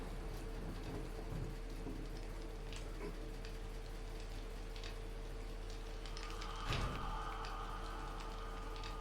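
Rain falls outside with a steady, dense hiss, faint and even throughout, with a low rumble rising near the end.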